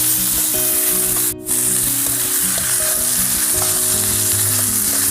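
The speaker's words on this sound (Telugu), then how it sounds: "కొంచెంసేపు అలాగా ఫ్రై కానిద్దాం." Chicken pieces frying in a pan after being added to a fried spice paste, a steady close sizzle and crackle with a brief stir-like pause, no talking.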